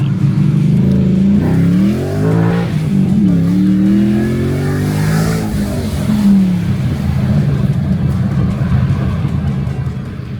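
A supercharged Ford Coyote 5.0 V8 in a Mustang revs loudly through the gears, its pitch climbing in repeated sweeps with each shift before settling into a sustained roar.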